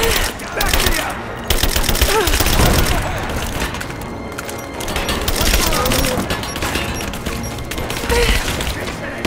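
Sustained gunfire rattles and booms in Rise of the Tomb Raider, with dense volleys of shots rising and falling throughout and voices heard among them.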